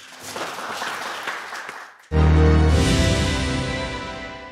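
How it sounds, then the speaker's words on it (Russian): Applause from a studio audience at a gaming debate show, dense clapping for about two seconds, then cut off abruptly by a loud, sustained musical tone that fades slowly. "Сразу после ваших аплодисментов, надеюсь."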